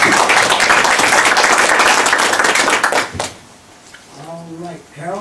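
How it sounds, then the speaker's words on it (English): Applause from attendees at a village board meeting in Rouses Point, a dense burst of clapping filling the room for about three seconds before fading out as a voice begins speaking. "I think she deserves a round of applause."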